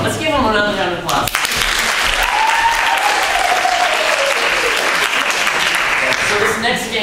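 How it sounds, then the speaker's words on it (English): Audience applause at a fall hat show, a loud, dense wash of clapping that fills the whole stretch, with voices speaking over it at the start and again near the end. "let's give them another round of applause"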